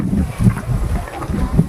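Strong wind buffets the microphone in continuous low rumbling gusts, loud and close, with no other clear sounds.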